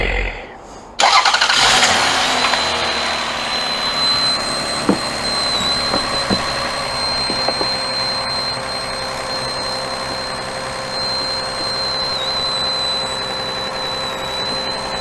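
A 2004 Toyota Avalon engine with a suspected belt noise cranks and starts, then idles steadily with a persistent high-pitched whine running through it and a few faint clicks.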